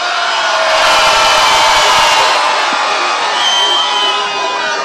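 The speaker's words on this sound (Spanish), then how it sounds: "Vamos a lanzarle un grito todos, mujeres y hombres, que llegue hasta allá y nos escuchen" A large crowd of men and women at a street rally in Nueva Esparta roars together in one sustained shout after a count of three, a loud, dense wall of cheering and whooping lasting several seconds.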